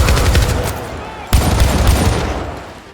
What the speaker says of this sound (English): weapons like the Kusanagi rifle can swap from a close-range, fully automatic shooter to a long-range DMR